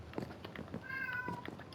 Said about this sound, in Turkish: Kedim miyavlıyor.